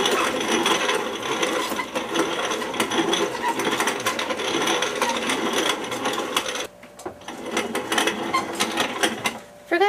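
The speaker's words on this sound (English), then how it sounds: "when you're grinding the grain" A grain mill grinds grain for multigrain pancakes, making a loud, close, continuous mechanical rattle and clatter with one brief dip before grinding resumes.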